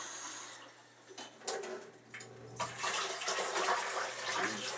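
Fresh cold tap water running into a pot for turkey soup, a rushing, splashing flow that grows fuller and louder as the pot fills.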